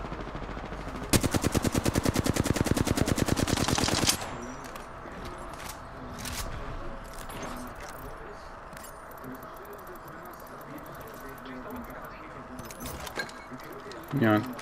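Rapid automatic gunfire in a video game, a dense burst of shots lasting about three seconds near the start, followed by scattered quieter game sounds as players talk.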